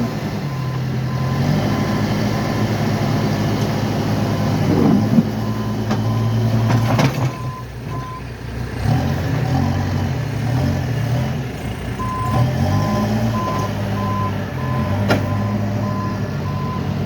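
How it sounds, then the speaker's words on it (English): A tractor backs up while back-dragging snow in a city square, its reversing alarm beeping in regular bursts over a loud diesel rumble, with scraping and clanks as the machine works. "And that's the difference of having a tractor like that, because you can back drag it out."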